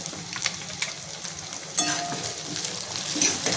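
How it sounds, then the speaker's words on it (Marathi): Onion and tomato with turmeric sautéing in a pan, a steady close sizzle with scraping stirs and a brief louder burst of frying partway through. "व्यवस्थित परतून घ्यायचे"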